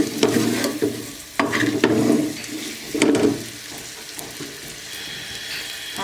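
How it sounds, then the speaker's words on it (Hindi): Chillies and spices frying and being stirred in a pan for sarson ka saag, a continuous sizzle broken by bursts of scraping stirring, close and fairly loud with no talking. "इसको अच्छे तरीके से हमने मिर्च को मसालों को भून लेना है।"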